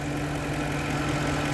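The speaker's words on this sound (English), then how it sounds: "We're going to keep this here and let the engine heat up to operating temperature." A Lincoln Town Car engine idles while warming up to operating temperature, giving a steady, close, continuous low hum with no break and no talking.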